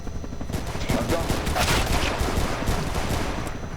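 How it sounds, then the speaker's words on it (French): Several guns fire together at a helicopter's tail rotor in a sustained, dense volley of crackling shots, loud and continuous with no clear gaps between rounds. "à mon top, on tire tous dans le rotor arrière"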